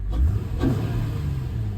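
A Honda EXL V6 coupe idles with a low, steady engine rumble, close by, with a slight swell early on and no talking.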